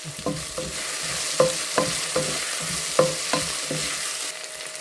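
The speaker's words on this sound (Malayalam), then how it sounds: "ഇത് നന്നായി വഴഞ്ഞു വരണം. അതുവരെ നമുക്കിത് വഴറ്റാം." Kerala-style potato stir-fry sautéing in a pan, a steady sizzle punctuated by regular spatula scrapes and taps against the metal, close and clear.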